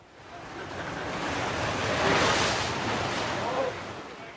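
Atlantic surf surges through Penny Pool on the Cornish coast, a broad, loud roar of churning water that swells to a peak midway and stays heavy, with wind buffeting the microphone.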